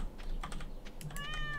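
A pet cat meows softly a few times amid faint clicking, with a thin, wavering cry toward the end, fairly quiet and close.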